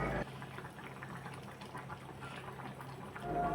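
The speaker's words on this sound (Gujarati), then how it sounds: "ઉમેરી દેવાની છે અને ધીમા તાપે ઉકળવા દેવાની છે" Dried tuvar dhokli simmering on low heat, a quiet, steady bubbling and gentle liquid murmur that continues evenly for a few seconds with no voices.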